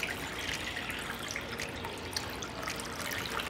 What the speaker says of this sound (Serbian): u činiju ću sipati vodu